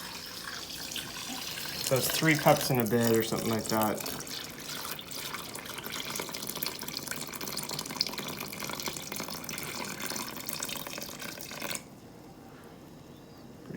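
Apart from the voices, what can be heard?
water poured into bowl for sourdough dough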